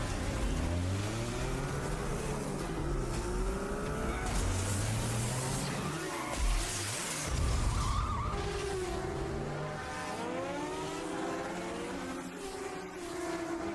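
Motorbike engines whine and rev in a chase, with tires skidding and squealing as the machines swerve, their pitch sliding up and down. A narrator's voice speaks over the effects throughout.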